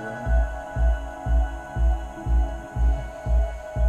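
A synthesizer plays a repeating low, throbbing pulse about twice per second, with sustained higher tones droning above it.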